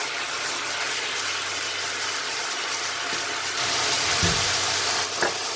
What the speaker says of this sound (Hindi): जैसे ये घी ऊपर आएगा साथ ही हम लोग अपने प्याज की पेस्ट डाल देंगे बीच में।